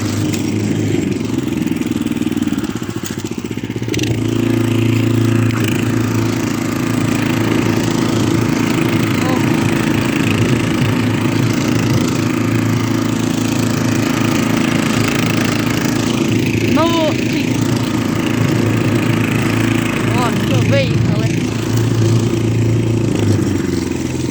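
A walk-behind tractor (motoblock) engine runs continuously while driving through snow, loud and near with a steady chugging drone and some clatter, and someone speaks briefly over it.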